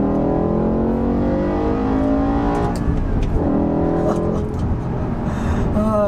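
A 2006 BMW M5's V10 engine revs hard under acceleration, its loud, close howl climbing in pitch, easing briefly, then rising again.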